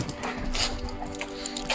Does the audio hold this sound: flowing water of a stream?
no